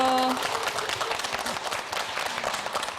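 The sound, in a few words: applause welcoming guests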